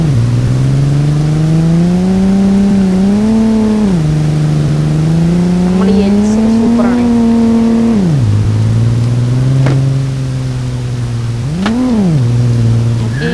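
A car engine in the LAC video game drones loudly and steadily, its pitch rising and falling as it accelerates, shifts and revs repeatedly through a long drive, with no talk over it.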